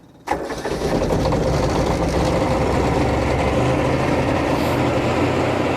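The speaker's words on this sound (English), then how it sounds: "we're going to go ahead and start the generator" A Heat Wagon ThawDevil TD300 generator engine cranks and catches abruptly, then settles into a loud, steady idle that drones on without pause, with no one speaking.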